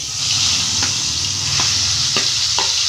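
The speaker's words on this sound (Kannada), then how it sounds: "ಇದು ಚೆಂದಾಗಿ ಹಸಿ ವಾಸನೆ ಹೋಗೋವರೆಗೂ ಫ್ರೈ ಆಗಲಿ" Ground masala paste fries in hot oil for a chicken keema curry, giving a steady close sizzle with a few soft stirring scrapes spaced through it and no voices.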